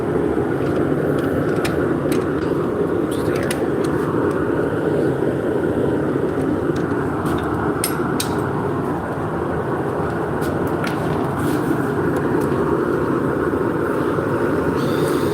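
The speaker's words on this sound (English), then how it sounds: "So we're turning hard maple." A wood lathe spins hard maple with a continuous loud rumbling roar and steady motor drone, with occasional faint ticks and scrapes over the top, no pauses.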